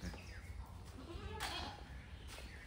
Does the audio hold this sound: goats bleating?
yes